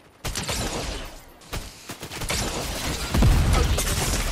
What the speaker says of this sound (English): Oh, someone's shooting at me.